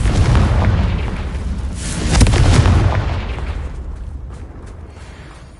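A Confringo spell blast in a video game: a loud booming explosion with a heavy low-end burst, swelling again around the midpoint and then trailing off into a rumbling decay, with no talk.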